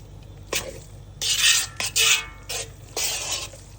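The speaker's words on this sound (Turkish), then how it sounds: "Kavuruyorum salçayı" Tomato paste cooking in oil with salt in a pan, stirred in short scraping bursts of sizzle and utensil rasp, several close strokes separated by brief pauses.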